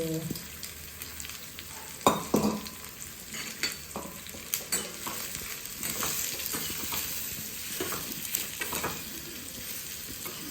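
Mustard seeds, cumin and asafoetida crackle and sizzle in hot oil, a steady frying hiss with scattered sharp pops and occasional stirring scrapes.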